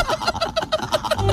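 A turkey gobbling, a quick rapid series of throaty warbling notes repeated about ten times in a steady rhythm, close and fairly loud, ending as a low background noise rises.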